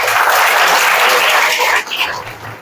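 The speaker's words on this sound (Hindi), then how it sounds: "पहले तो तालियां भी बजाओ उसके लिए।" An audience at a creators' conference session claps in a dense, loud burst of applause that holds steady for about two seconds before thinning out and fading.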